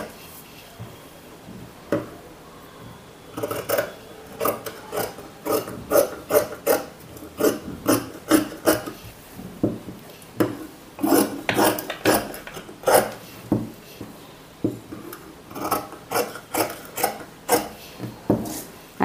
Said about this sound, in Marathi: कटोरी पण आपण जशी आहे तशीच कट करून घ्यायची.